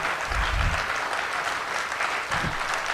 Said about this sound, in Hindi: अगर यही तेवर सुनना चाहते हैं तो एक बार तालियां और जोर से बजाइएगा फिर।